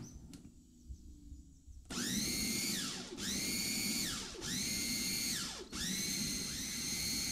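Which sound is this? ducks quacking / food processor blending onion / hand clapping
food processor blending onion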